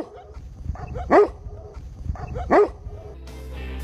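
A Maremma sheepdog guarding a flock on a farm sounds an alarm at approaching people, two loud, close barks about a second and a half apart over quiet outdoor background.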